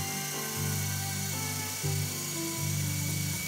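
A micro indoor RC helicopter hovers low just off its landing pad. Its small rotor and motor give a thin, steady whir close by, with the pitch shifting up and down as the throttle is adjusted.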